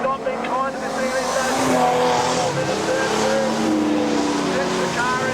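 Modified production race car at Kingaroy Speedway, a continuous loud engine roar setting into turn one, with other cars droning alongside and a commentator talking over the top throughout.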